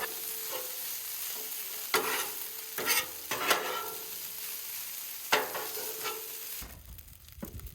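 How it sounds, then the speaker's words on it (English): Rice with chicken frying in olive oil on a Blackstone griddle, a steady close sizzle broken by several sharp scrapes and stirring clatters, ending with a sudden quieter stretch. "So I'm just gonna re-incorporate that into our rice and let it fry up."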